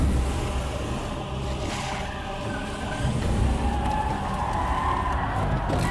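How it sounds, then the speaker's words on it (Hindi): Several cars approach from behind with a continuous rumbling rush of engines and tyres that swells slightly as they draw nearer, set against a dramatic film soundtrack. "वासु देखो पीछे एक साथ कितनी गाड़ियां आ रही हैं।"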